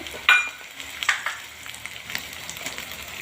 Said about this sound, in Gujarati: ડુંગળી ફ્રાય થઈ રહી છે